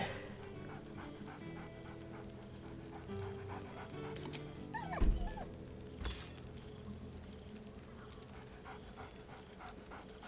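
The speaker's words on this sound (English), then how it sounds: "Scratch barks merrily in something like agreement" Scratch, the dog in Baldur's Gate 3, pants steadily in a game scene with a low music or ambient bed behind, broken by a couple of short, sharp barks or yips near the middle; no one speaks.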